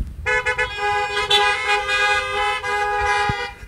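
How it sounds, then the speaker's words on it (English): Car horns honking at an outdoor Mother's Day service, a sustained chorus of overlapping toots lasting several seconds, loud and close, with a low rumble of engines beneath. "If you can hear me, honk your horn."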